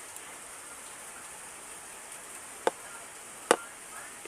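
Rain falls outside in the evening as a soft, steady hiss, broken near the end by two sharp, close ticks.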